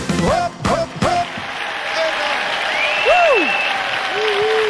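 A large crowd applauds steadily for a singer at a live Slovak music show, the clapping sustained and full throughout, with a few short shouts and a voice breaking in at the start.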